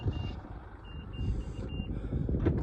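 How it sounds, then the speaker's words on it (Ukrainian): A 2012 Mitsubishi Outlander XL 2.2 diesel giving its locking signal, a few short high beeps spaced apart over faint wind and outdoor noise. "Сигналізує, що автомобіль закрився"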